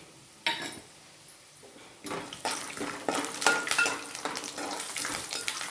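Peanuts dry-roasting in a pan until reddish, with crackling and rattling as they are stirred, a quiet start giving way to busier scraping and sizzle-like clatter, close by and without talk.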